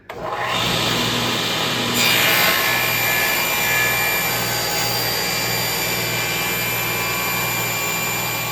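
A power saw cuts wood while a child's step stool is being built in a workshop, producing one loud continuous whine and roar that hold steady from start to finish, close up, with no voices.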